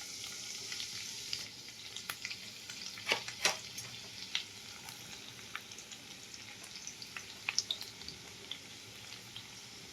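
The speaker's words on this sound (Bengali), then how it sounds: "তেলটা গরম হয়ে যাওয়ার পরে দিতে হবে এই রসুন কুচিটা।" Chopped garlic frying in hot oil for a Schezwan chutney, giving a faint, steady sizzle with scattered crackles and pops over about ten seconds.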